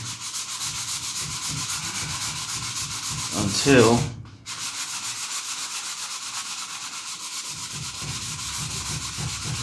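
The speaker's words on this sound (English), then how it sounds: "we're going to just keep sanding that portion down right here" Steady back-and-forth sanding rasps across a painted model P-51D Mustang wing panel, taking down excess paint in continuous close strokes, with a brief louder scrape and a short pause partway through.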